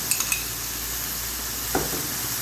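Chicken spaghetti sauce simmers over a low flame with a soft, steady sizzle, broken by a few light clinks of a spoon against the pot near the start and once more later on.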